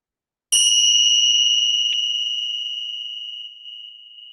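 A single mindfulness practice bell struck once, ringing out clear and bright, then holding a long, slowly fading tone with a faint second touch partway through, alone in silence.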